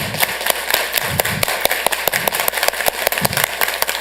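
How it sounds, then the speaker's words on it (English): An audience at a Santa Ana city council meeting claps together in a loud, sharp, steady beat of single claps, the spacing tightening gradually over a constant roomy background. "So if you can join me in very slowly, we're just gonna clap."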